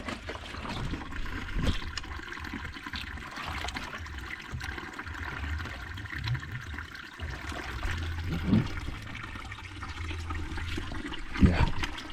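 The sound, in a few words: water being fetched into a cooking pot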